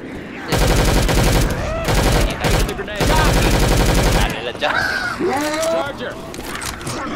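Bursts of rapid automatic gunfire in Left 4 Dead 2, loud close volleys broken by short pauses, then fading into scattered game effects with shouting voices mixed in.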